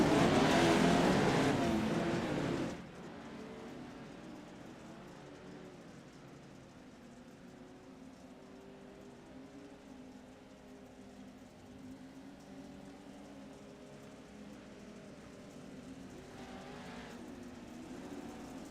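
Race cars of the JAT Pro 2L Series idle along on a brake lap behind pace cars, a steady low engine drone after a brief loud burst at the start, with no talk.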